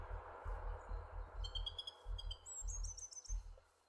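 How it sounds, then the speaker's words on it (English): Bird chirps and short tweeting trills from a Minecraft Valhelsia 2 modpack world with the Terraforge mod. They repeat in quick bursts over a steady low rumble of rain and ambient noise, fairly faint, with no talk. "These bird sounds are superb."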